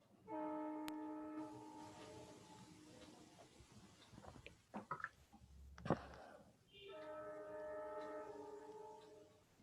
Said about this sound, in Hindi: कौन सी ट्रेन चल रही है?